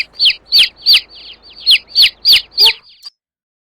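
Chickens in the Farming Simulator 22 video game give a series of eight sharp, high chirping clucks at an even pace. The calls are loud and close, then stop abruptly into silence.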